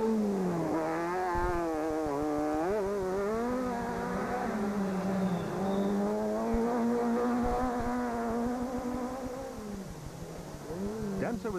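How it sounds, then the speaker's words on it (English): S2000 rally car engines in Total Rally 2006 drone and rev with rising and falling pitch, a sustained buzzing note that eases off toward the end. "The engine notes of the S2000 cars reverberated off the mountains as they continued to suss out the pace."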